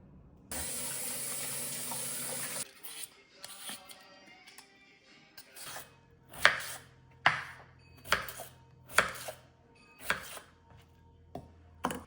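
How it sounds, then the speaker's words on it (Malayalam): Tap water runs loudly over potatoes, carrots and onions for a couple of seconds, then stops, followed by a series of sharp, evenly spaced knocks and clatters of vegetables being handled over a faint low hum. "അപ്പം നമുക്ക് ഈ ഉരുളക്കിഴങ്ങും ക്യാരറ്റും ഉള്ളിയും ഒന്ന് കഴുകിയിട്ട് അതിനെ ഒന്ന് പീൽ ചെയ്തെടുക്കാം"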